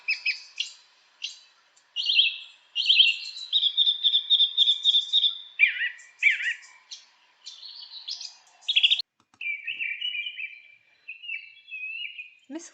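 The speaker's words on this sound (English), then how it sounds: "the song thrush works in phrases, trying each one out for size 2 or 3 times." A song thrush delivers loud, varied, confident phrases, repeating each note pattern two or three times in quick succession, clear and close over about a dozen seconds with brief gaps.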